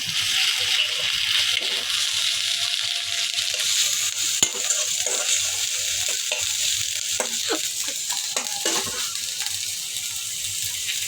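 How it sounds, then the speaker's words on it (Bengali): Ginger-garlic paste is stirred in a pan while rohu fish cooks on low gas, a steady close sizzle running throughout with intermittent scraping strokes of the spoon. "আমার আম্মু এখন একটু আদা রসুন দিয়ে দিবে, আদা রসুনের পেস্ট। এখন একটু নেড়ে দিবে"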